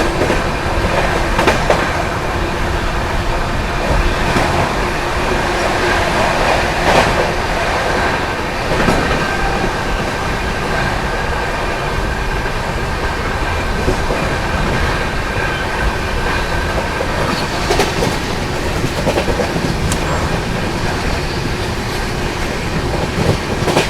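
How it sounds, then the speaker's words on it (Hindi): The 12907 Maharashtra Sampark Kranti Express running at speed between Mumbai and Delhi, heard from aboard as a loud, steady rumble with rhythmic clickety-clack of wheels over rail joints and occasional metallic squeals, with no talk. "अपनी महाराष्ट्र संपर्क क्रांति स्किप कर रही है यहाँ पर फरीदाबाद को"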